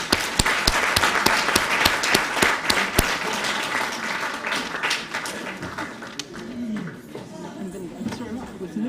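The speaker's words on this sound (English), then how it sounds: "a round of applause for the audience and everyone else who's here" A lecture audience at the Mandela Lectures claps heartily, the applause thinning out after about five seconds as a voice begins speaking.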